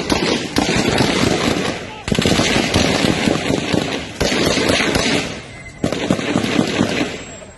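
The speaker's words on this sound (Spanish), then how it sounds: "Detonaciones, arma de fuego por parte de... Hay detonaciones por parte de Fuerza Civil." Repeated bursts of firearm shots during an armed confrontation involving Fuerza Civil police in Veracruz, loud and close, clustering in four volleys with sharp onsets and fading tails, with a voice speaking over the shooting.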